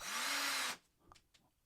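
A DeWALT cordless drill whines loudly at full speed from the first instant with no slow build-up, running steadily for under a second before cutting off into quiet handling noises.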